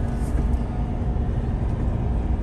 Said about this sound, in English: the loudest the engine ever gets is when you turn on the built-in exhaust brake